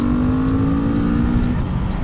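A Husqvarna Vitpilen 701 motorcycle rides a twisty road, its engine loud and close with a falling tone as it eases off, under heavy wind noise.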